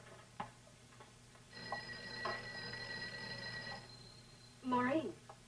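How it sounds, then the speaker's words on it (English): A telephone rings with a sustained electronic trill lasting about two seconds, heard indoors at moderate level, followed by a short voiced sound. "I think your phone is ringing."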